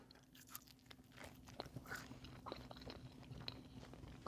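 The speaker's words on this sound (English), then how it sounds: "Let's take a bite." Biting into a breakfast burrito in a crispy tortilla filled with smoky brisket, black beans, egg and cheese, heard as close, crisp crunching and chewing with soft scraping, no talk.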